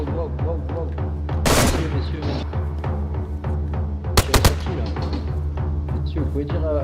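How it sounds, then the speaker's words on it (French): Bursts of gunfire in the video game DayZ, with a heavy volley near the start and sharp cracks later over steady rattling shots and a low background drone, loud and close, with some voices mixed in. "pouvez dire à vos hommes qu'ils arrêtent de tirer?"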